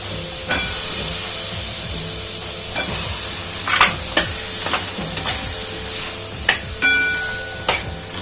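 Continuous sizzle of masala frying in oil, punctuated by sharp spoon taps and scrapes against the pan at irregular intervals.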